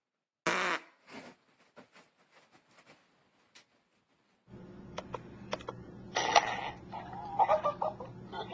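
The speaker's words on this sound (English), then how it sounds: "You fart?" A short, loud fart bursts out near the start, followed by faint clicks and rustles, then steady room noise and sharp knocks later on, with no voice heard.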